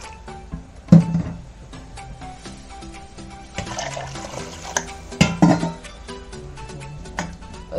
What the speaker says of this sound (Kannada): ಸೊ ಇವಾಗ 1 ಕಪ್ ಅಕ್ಕಿ ಅಂದರೆ 2 ಕಪ್ ನೀರು ಹಾಕ್ಕೊಳ್ಬೇಕು ಫ್ರೆಂಡ್ಸ್ ಇದಕ್ಕೆ.